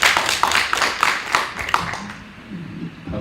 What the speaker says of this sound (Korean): 박수를 막 치시면